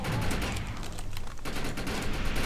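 Dense, continuous gunfire in the video game Defiance, loud and close, with rapid overlapping shots filling the whole stretch and only a brief dip in the middle.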